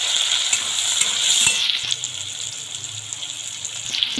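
Chopped onion, green chilli and tomato sizzle steadily in a hot pan while cooking dal pitti, a close, continuous crackling fry with a few soft stirring clicks and no talking.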